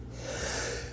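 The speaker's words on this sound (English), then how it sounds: "Excuse me, I sneezed." One short, breathy sneeze from a person indoors, close to the mic but fairly quiet, a single burst of airy noise with nothing else heard.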